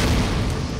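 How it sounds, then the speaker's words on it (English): A German Model 24 stick grenade explosion from wartime, heard as a loud, sustained broadband roar of blast noise filling the short moment with no clear onset or decay. "The explosion from a German Model 24 stick grenade can blast shrapnel over 200 yards."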